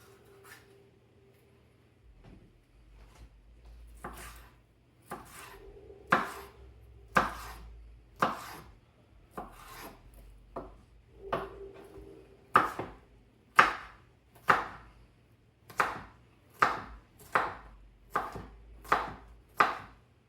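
Vegetables for Puerto Rican sofrito being chopped with a knife on a board, starting as sparse taps and building into a steady run of sharp, evenly spaced chops near the mic, with a low hum underneath and no talking.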